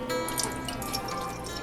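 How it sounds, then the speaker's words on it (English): Water pours and drips into black cherry jelly concentrate in a home kitchen, a steady, close trickling splash for a moment. "we're just adding water."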